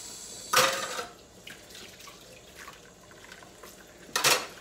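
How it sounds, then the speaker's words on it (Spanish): Water from a tap splashes in two short bursts while dishes are rinsed quickly to save water, with quieter trickling and faint dish sounds in between. "continuamos enjuagando los trastecitos, así sucesivamente, rápidamente, que no se quede tanta agua."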